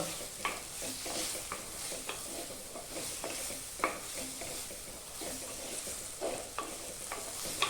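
A spoon scrapes and stirs chilli and spice powders in a pan for a mango fish curry, with steady irregular strokes over a soft background sizzle and no voices.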